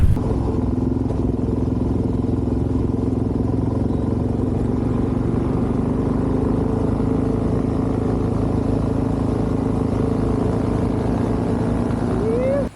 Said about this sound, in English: that's a little teaser of me and Craw doing some motorcycle riding with some paramotor